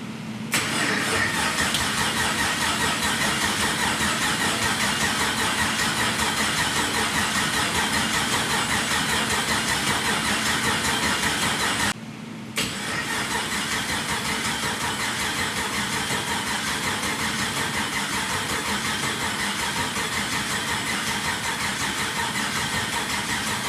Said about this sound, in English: we can try and start this thing up first time with the new motor